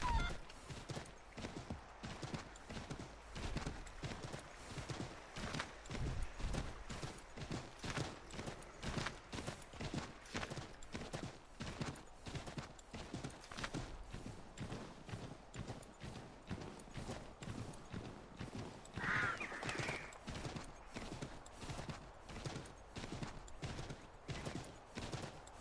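Horse hooves clip-clop steadily across a ground surface in Assassin's Creed 3, a regular rhythmic beat that is close and fairly quiet, running throughout with a brief faint accent partway through.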